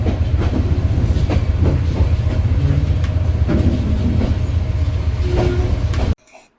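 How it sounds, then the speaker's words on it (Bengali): The Parabat Express, train 709 on the Dhaka to Sreemangal run, departs with a loud, continuous rumble and rhythmic wheel clatter nearby, then cuts off abruptly near the end. "দেখতে দেখতে আমাদের ট্রেনটি ছেড়ে দেয় ঠিক ৬টা ৩০ মিনিটে।"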